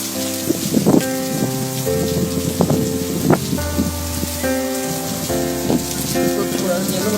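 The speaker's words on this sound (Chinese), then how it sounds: "为什么突然间这么大的雨呢？" A sudden heavy downpour roars steadily with dense hiss and scattered louder splashes, sounding close and continuous throughout, with no voices.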